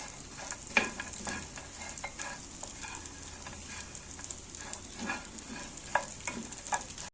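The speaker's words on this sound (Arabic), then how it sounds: "العيش بدأ يتحمص معايا اهو" Pieces of bread frying and toasting in hot oil, with a steady close sizzle broken by occasional stirring scrapes and small pops, alone and without voices.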